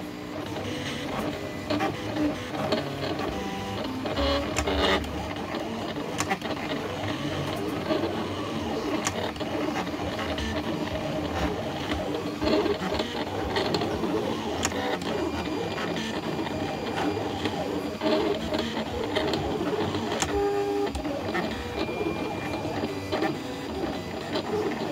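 A Silhouette Cameo cutting machine cuts a design with a steady mechanical whir and buzz, and its motor stutters and chatters as the blade moves. The sound runs unbroken for the whole stretch, with no talking.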